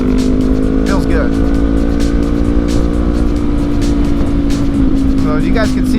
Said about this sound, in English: we're running a pretty good clip through here, through these twisties on the bike